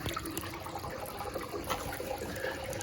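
Water leaking from a pipe joint, a steady close trickling and splashing wash that runs continuously without pause, fairly quiet and with no talking.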